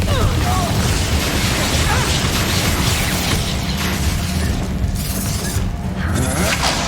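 A Confringo fire spell blast in Hogwarts Legacy combat, loud continuous booming and crashing effects layered with battle sounds, with voices speaking during the fight.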